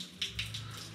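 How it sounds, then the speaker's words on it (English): Water drains from a John Deere 455G crawler loader, a faint trickle with a few soft splashy drips over a low background hum. "Got some water draining."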